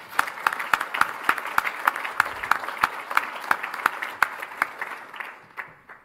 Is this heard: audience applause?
yes